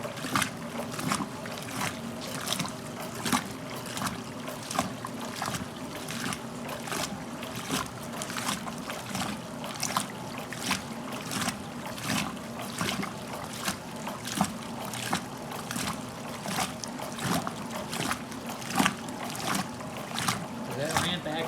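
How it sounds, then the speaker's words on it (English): A 1969 Westinghouse washing machine's ramp action agitator sloshing water in rapid, regular churning splashes, steady and fairly close, with no talking. "That ramp action agitator sure knows how to throw around its water."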